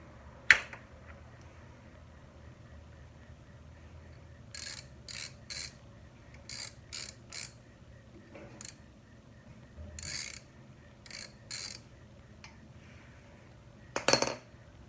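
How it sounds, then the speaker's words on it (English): Wrench clicks while loosening the oil drain bolt on a Suzuki DRZ400SM motorcycle: short bursts of metallic ratcheting come in irregular groups, close and fairly quiet, with no talk. "if you can see the bolt right here, let's take it off."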